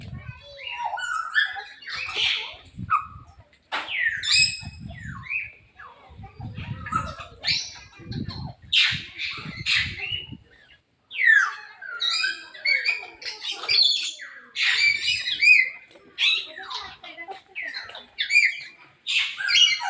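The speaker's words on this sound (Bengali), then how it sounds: "আমরা এখানে 3 ধরনের টিয়া পাখি পাইছি, লাল, সবুজ, হলুদ" Parrots at Gazipur Safari Park, green, yellow and sky-blue kinds, give bright chirps and squawks throughout, close and fairly loud, mixed with bursts of people talking nearby.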